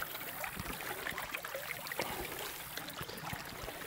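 Creek water flows past a water wheel among rocks, a steady trickling, gurgling stream with scattered small splashes, close and continuous, no voices.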